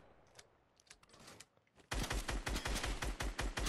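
Rapid automatic gunfire from a skinned weapon in Fortnite, a few quiet scattered shots at first, then a loud, steady burst of closely spaced rounds with a rhythmic punchy thump.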